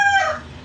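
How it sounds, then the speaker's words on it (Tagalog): A conditioned fighting gamecock kept for sabong crows once, close and loud, a short bright call whose tone slides downward before trailing off. "ipakilala ko sa inyo ang manok kong"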